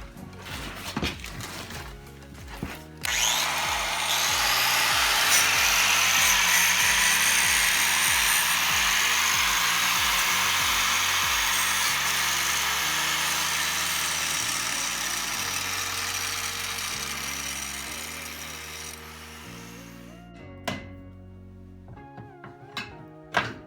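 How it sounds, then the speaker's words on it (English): Angle grinder cutting away a welded-on attachment from an overland build vehicle: a loud, sustained high abrasive whine runs steadily for about sixteen seconds, starting and stopping abruptly, over low mechanical rumble. "that's why I'm gonna use a grinder to take it off"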